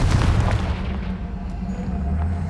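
A Confringo blasting spell in Hogwarts Legacy bursts against a pile of rubble blocking a stairwell, a deep booming explosion with a rumbling tail that lingers for a couple of seconds.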